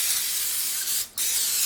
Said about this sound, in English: I'm just using the spray olive oil, and I'm spraying